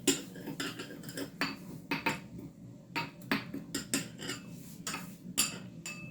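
A metal spoon crushes biscuits at the bottom of a small glass, giving repeated sharp clinks and scraping taps in an irregular rhythm, close up with no talk.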